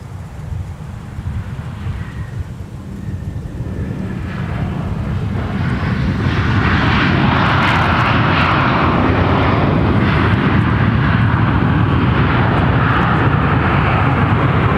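A Southwest airliner arrives at Minneapolis–St. Paul Airport, its engine roar building from a distant rumble to a loud, steady broadband wash with wind noise, heard alone.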